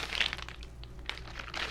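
Plastic bag holding Southdown wool fiber being opened, giving quiet close crinkling and crunching in a few short bursts with brief pauses between them.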